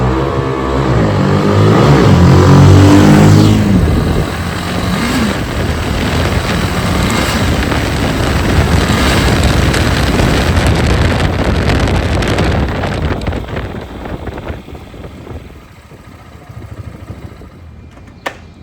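A Motorstar GPR 250 motorcycle accelerates hard through the gears from a standstill, its engine note climbing loudly against heavy wind buffeting on the microphone, then fading away toward the end.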